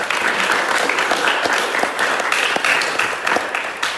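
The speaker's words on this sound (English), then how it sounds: "So give yourselves a big round of applause." Audience applause at a trail-running community gathering, a full, close round of clapping with some sharper individual claps standing out, continuous and fairly loud before easing slightly near the end.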